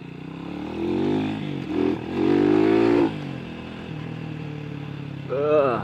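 A Rusi Classic 250 motorcycle rides in scrambler mode, its engine droning close and loud with a couple of rising revs as the throttle opens, under steady wind noise.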